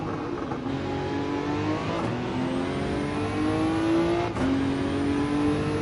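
A Gr3 race car engine in Gran Turismo 7 screams at high revs at Bathurst, bouncing against the rev limiter with brief stutters between steady rising pitch, loud and continuous throughout.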